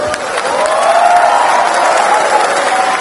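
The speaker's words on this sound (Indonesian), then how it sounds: "Tepuk tangan dong" Audience applause and cheering for a university student at a question-and-answer session with students in Pontianak, a steady crowd roar with clapping lasting throughout, a few voices rising above it.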